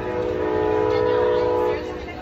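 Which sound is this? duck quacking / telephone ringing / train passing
train passing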